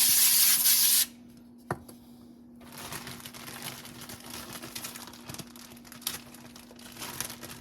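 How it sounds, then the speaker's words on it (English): A short, loud hiss of avocado oil cooking spray onto a pan lasts about a second, followed by quiet rustling and faint clicks. "we're going to spray our pan"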